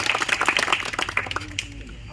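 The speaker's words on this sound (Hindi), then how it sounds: "ये दोनों के लिए जोरदार ताली।" Applause for two top-ranked students at a classroom gathering for army and CISF recruitment exam aspirants, a dense patter of hand clapping through the whole span with speech mixed in, tapering toward the end.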